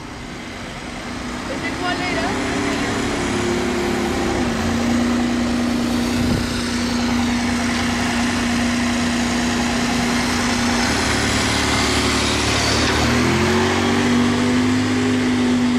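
Aston Martin Vanquish 2025 with a Formula 1-type engine rolling through Casino Square, a steady loud engine drone holding one pitch, shifting slightly near the end, with crowd noise and voices around.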